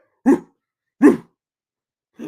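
Dog barking, two sharp single barks about three quarters of a second apart, close and loud against silence, with the start of a third at the end.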